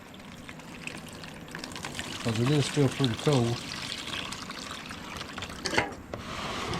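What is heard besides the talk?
warm water being poured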